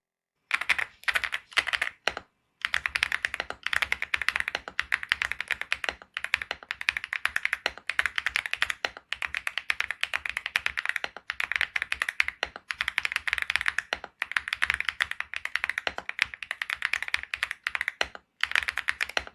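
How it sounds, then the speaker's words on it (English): Steady fast typing on a mechanical keyboard, dense close-up key clacks in continuous runs with a couple of brief pauses, loud and alone without speech. "You can tell just by the typing sound"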